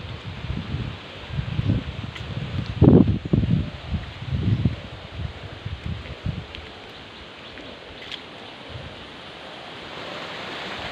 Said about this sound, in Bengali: বেশ ভালোই বাতাস হচ্ছে।